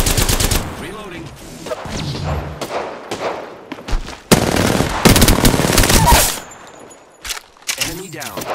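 Automatic weapon fire in the Apex Legends video game, long loud rapid bursts with heavy impacts and clanks, dense and close, with brief game voice lines in between.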